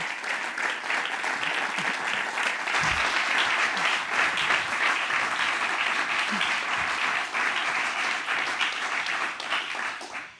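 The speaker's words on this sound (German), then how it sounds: "wir begrüßen sie, mal in sie mit einem rechten Zentralschweizer Applaus" A large audience at a Central Swiss business forum gives long, steady applause to welcome Federal Councillor Karin Keller-Sutter, with dense, even clapping that holds throughout and fades at the end.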